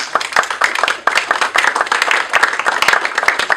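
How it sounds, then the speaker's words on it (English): A crowd applauds with dense, steady clapping, many hands at once, sustained without a break, close and fairly loud. "How about a round of applause for these people?"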